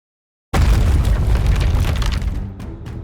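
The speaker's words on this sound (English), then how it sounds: "I hear gunfire and explosions." A sudden, very loud booming explosion from the video game Goddess of Victory: NIKKE bursts in after silence, then rumbles on and slowly fades with crackling debris.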